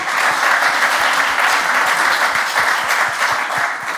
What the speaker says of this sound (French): Bon, on peut applaudir